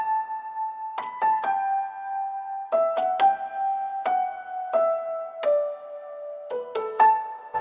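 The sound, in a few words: layered melody on Keyscape Duo Upright preset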